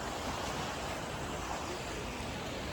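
Sea waves washing onto a beach at high tide near Revdanda, Alibag, a continuous, even rush of surf with no distinct breaks, faint and distant-sounding and heard alone without voices.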